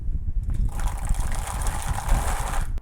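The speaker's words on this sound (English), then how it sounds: "Put the rest of the water back in." Water poured back into a jar of omija berries, a steady trickling and splashing fill lasting about two seconds, close and moderately loud, with no talking.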